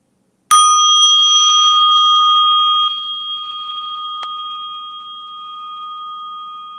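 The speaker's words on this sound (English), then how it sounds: "place your attention lovingly, gently, calmly on the sound of this bell" A single bright meditation bell strike rings out clearly, its tone sustaining and slowly fading, with a faint second tap partway through the decay.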